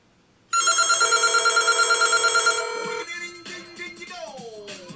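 A bar phone's bell rings in a single sustained burst of about two seconds, then clatters and fades into faint rattling and a brief tone.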